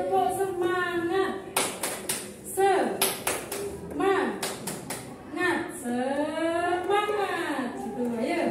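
A group of students and a teacher perform a rhythmic spirit clap in a classroom, with bursts of sharp clapping patterns alternating with chanted and sung voices.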